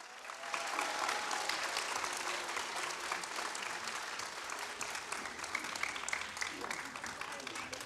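Sustained audience applause in a church during a Friday evangelism service, dense and steady clapping filling the room for several seconds, with a few scattered voices underneath.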